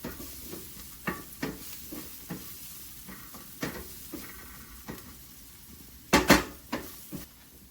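Onions fry in a pan for a mushroom egg omelette, a faint steady sizzle broken by scattered spatula scrapes and clinks of cookware, including a louder double clatter near the end; no talking.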